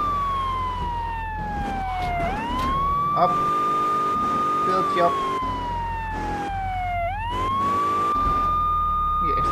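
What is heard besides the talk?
police sirens in video game GTA 3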